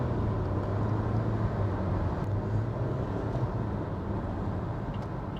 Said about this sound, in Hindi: कुछ इस तरह से एक्सेलरेट करेंगे आप तो इंजन स्लाइटली वोकल हो जाता है।